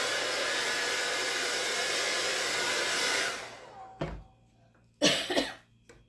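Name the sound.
blow dryer drying a chalk transfer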